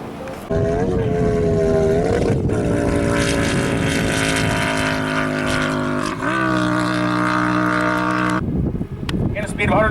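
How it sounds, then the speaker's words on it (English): Blown gas altered motorcycle roaring past at top speed during a standing-mile speed event, a loud continuous high-revving engine wail with shifting pitch, a gear change midway and a sharp drop near the end. "That bike running very good. It's running as a blown gas altered"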